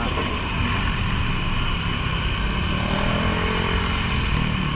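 Continuous engine drone of motorcycles, including a 2014 Honda TMX, in dense traffic from Imus to Baclaran, a steady loud rumble without a break.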